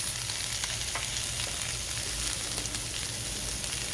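Brussels sprouts sizzling in a hot pan with crispy bacon pieces, a continuous crackling fry with a steady low hum beneath it, close and even, with no voices.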